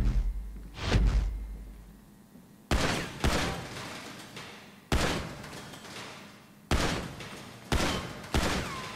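Gunfire at targets in GTA Online target practice, a string of loud separate shots with booming decays, one early, then five more at roughly one-second intervals.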